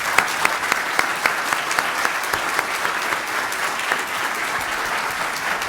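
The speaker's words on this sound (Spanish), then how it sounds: "además del aplauso sincero y caluroso por esta excelente conferencia" A conference audience at a panel on judicial independence and guarantees claps steadily in dense, sustained applause, evenly loud throughout with no talking.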